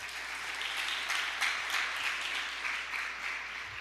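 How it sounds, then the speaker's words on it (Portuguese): A church congregation applauds, a dense and sustained wash of many hands clapping that holds evenly at moderate loudness from start to finish with no talk over it. "Pode aplaudir o Senhor pela vida de Andréia"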